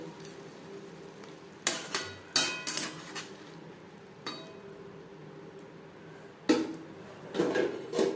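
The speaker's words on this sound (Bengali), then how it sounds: "বাঁধাকপির সাথে ঘি গরম মশলা ও কাঁচা লঙ্কা চেরা বেশ ভালো করে মিক্সড করে দেবো" Cabbage curry with ghee, garam masala and slit green chillies being stirred in a pan: irregular scraping clatters of a utensil against metal in short bursts, with quieter gaps between, and no talking.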